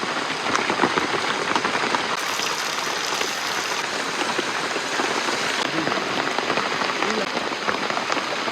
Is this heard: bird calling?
no